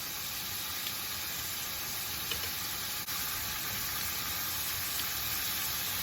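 Shrimp fry in a skillet, giving a steady, even hiss with a faint crackle and no pauses from start to finish.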